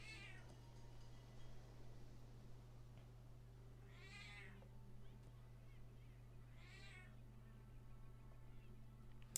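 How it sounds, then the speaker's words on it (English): A cat gives three drawn-out, wavering meows at close range, spaced several seconds apart, over a low steady hum. "I have a howling cat right now."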